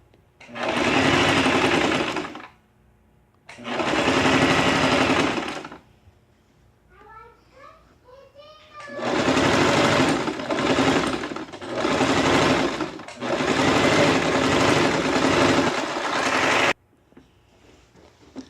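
A sewing machine stitches a strip onto jacket sleeves in several loud, steady runs of whirring, with short pauses and faint handling sounds between them.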